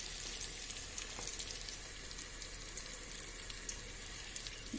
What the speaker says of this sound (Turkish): ısınan yağımızda kızartacağız